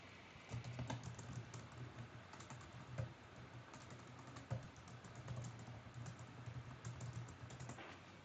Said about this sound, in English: I typed your answer in